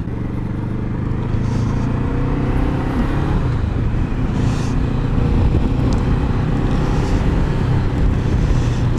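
Motorcycle engine pulling in third gear at low revs, a deep, steady, throbbing rumble that builds slightly with wind noise over it, no talking.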